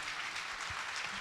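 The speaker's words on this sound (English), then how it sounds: "Round of applause for my panel." Audience applause for a panel at the Innovation Summit at the Kempinski Hotel, Ghana: a steady, moderately faint wash of clapping filling the whole moment with no voices.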